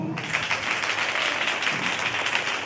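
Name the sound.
crowd clapping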